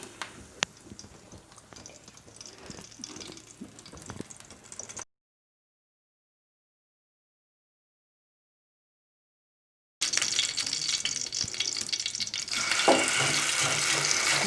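Oil hits a hot pan and fries with a bright, steady hiss that swells after a stretch of silence, following quieter kitchen clatter.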